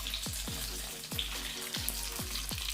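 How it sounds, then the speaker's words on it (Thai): Tofu frying over low heat in oil, a steady bright sizzle and crackle running throughout with a few soft low clunks recurring at intervals, close and fairly loud, with no voices. "ใช้ไฟอ่อนๆนนะครับ ก็ทอดไปเรื่อยๆ นะครับ"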